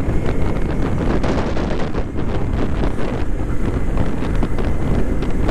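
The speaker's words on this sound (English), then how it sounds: "Look at that wind." Strong wind buffeting a microphone during an outdoor ride, a loud continuous rumbling roar with gusty fluctuations and no talking.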